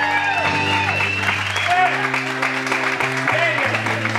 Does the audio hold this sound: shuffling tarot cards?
no